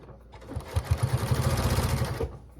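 A sewing machine outlines a raw-edge fusible applique on an already quilted piece, using vintage thread, while gloved hands push the fabric through; a steady run of close, rapid, rhythmic stitching pulses with a short start and stop.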